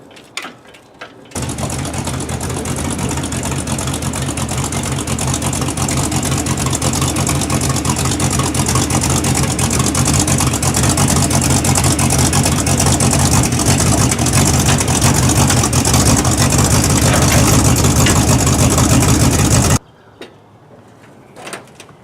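A Chrysler 318 small block V8 in a truck runs steadily for around eighteen seconds, a loud, continuous low rumble starting abruptly and cutting off sharply near the end, with no talking over it.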